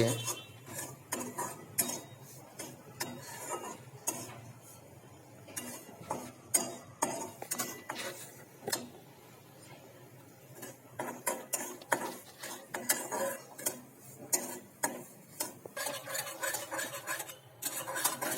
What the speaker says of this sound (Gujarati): તમે આ રીતે ધીમે ધીમે હલાવતા રહેવાનું છે કારણ કે નજર રવો ચોંટી જાય છે